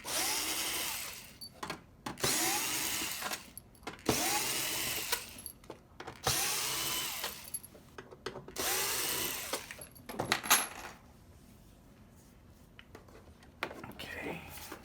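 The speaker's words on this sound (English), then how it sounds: "We're gonna remove those screws to remove the cover" A powered screwdriver backs screws out of an Xbox One S top case, whirring in repeated bursts of one to two seconds with short gaps between them, close and fairly loud, and then stopping near the end.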